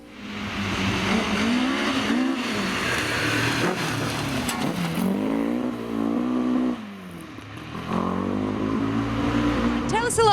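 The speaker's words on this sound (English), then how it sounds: "The engine note of Jim Robertson and Mike Curry's Mark II in stage 1" A Mark II rally car races through stage 1 of the Snowman Rally, its engine revving hard and rising and falling through gear changes, loud and close, with tyre squeal and a brief dip before the note surges back.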